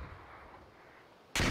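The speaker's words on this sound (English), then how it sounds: "Can they stop shooting?" Gunfire in the video game Valorant cracks out as a sudden loud burst near the end, after a quiet stretch.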